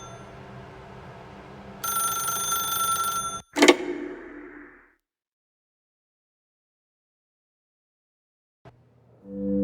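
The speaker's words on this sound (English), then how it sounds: "Pick up the phone and it will take us back home" An in-game telephone in The Stanley Parable rings with a bright, metallic electronic tone for about two seconds. A sharp clack cuts it off, the sound fades into near silence, and another tone swells at the very end.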